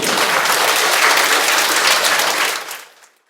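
Audience applause at a school music education event, a dense, loud burst of many hands clapping together that holds steady and then quickly dies away to silence.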